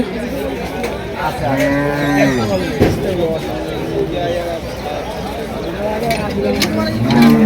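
Cattle, including Sahiwal bulls, at a busy rural cattle market in Cumilla, Bangladesh, lowing repeatedly and close by, with long drawn moos rising over steady crowd chatter and people talking throughout.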